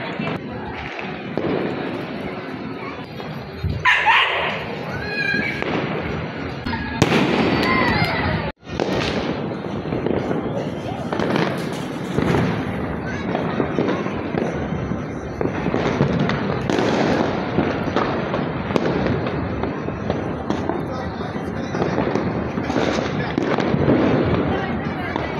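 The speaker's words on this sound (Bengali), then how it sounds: "ইংরেজি নতুন বছর আগমনে সবাই আতশবাজি করা হচ্ছে, তাই আমরা চলে আসছি ছাদে" Fireworks celebrating the arrival of New Year 2025, heard from a rooftop: dense, continuous crackling and booming bursts from all around, with sharp louder bangs near the start and people talking underneath.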